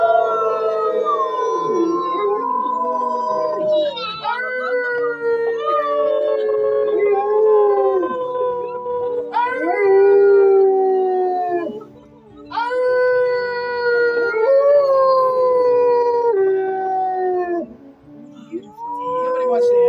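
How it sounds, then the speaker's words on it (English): Long, rising and falling howls at a wolf farm overlap in several voices. The chorus swells and drops away over about twenty seconds, with brief pauses in between. "once he starts howling, you guys want to stop because it's possible the rest of the animals may answer his howl"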